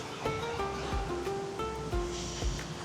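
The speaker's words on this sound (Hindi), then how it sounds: "ये है नदी।" The Kishanganga river rushes past near a waterfall, a continuous loud hiss of flowing water with faint high birdlike tones threaded through it.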